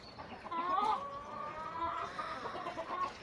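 Chickens clucking softly nearby, a few drawn-out murmuring calls over quiet farmyard background.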